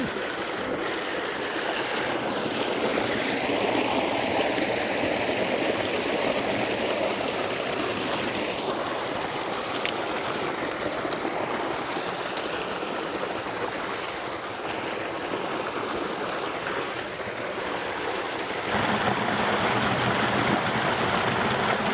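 A mountain stream in the Eastern Sierra rushes in a steady, loud, broadband wash of flowing water, continuous throughout with slight shifts in texture and no voices.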